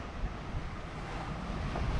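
Steady wind and rushing ocean waves while a sailing yacht beats upwind in open Atlantic water between the Azores and Gibraltar, with a continuous loud, close roar of gusts and splashing surf and no talk.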